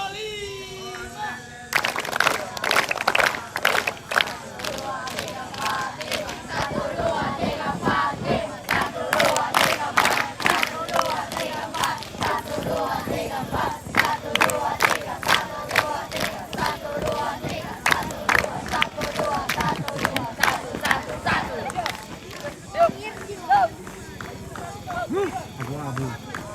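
A group of scouts at a scout camp performs a rhythmic clapping chant: dense, fast volleys of crisp hand claps mixed with shouted group voices, loud and continuous throughout.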